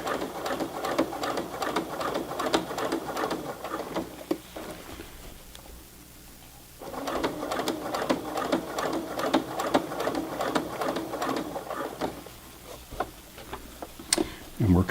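Brother PC 420 sewing machine hemming heavy Levi's jeans at a long 4.0 stitch length, a steady rapid close-up stitching drone that pauses briefly midway, then resumes and ends in a few clicks.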